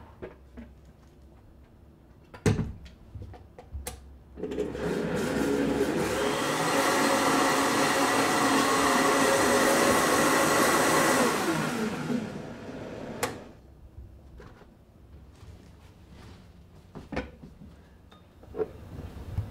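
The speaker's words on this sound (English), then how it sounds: "And now we're just going to hit blend and drink." An electric blender whirs steadily for about eight seconds, mixing a maca chocolate milk drink, with clinks and handling knocks before and after the loud, even motor run.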